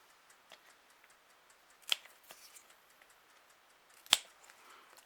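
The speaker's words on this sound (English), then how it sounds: "I've actually brought the scissors down." Two crisp scissor snips through orchid stems, a couple of seconds apart, in an otherwise quiet room with faint small rustles.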